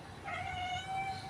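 A cat at home gives a single drawn-out meow, eager to catch a pigeon. The call is faint, close and plaintive over a quiet room.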